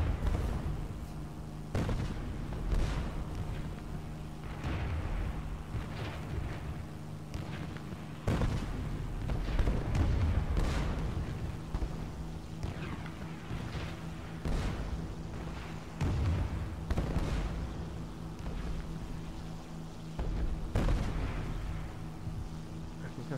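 Anti-aircraft artillery fire in a flight combat game with a Tempest Mk V over a Norway map: repeated faint, distant booms and bursts at irregular intervals over a steady engine drone, with occasional talk.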